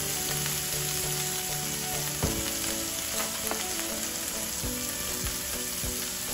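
Pesto sizzles in a hot pan for fettuccine, a steady close frying hiss with a few sharp crackles and light stirring knocks throughout.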